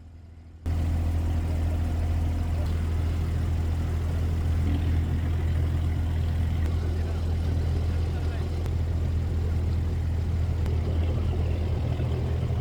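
An abra water taxi's engine drones steadily and loud while crossing Dubai Creek, a constant low rumble that runs throughout after a short quiet start.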